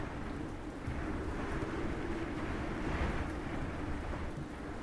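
A thunderstorm rolls through Ancient Cities, steady heavy rain hissing over a deep rumbling thunder swell that builds and peaks near the middle, continuous and fairly loud with no talking.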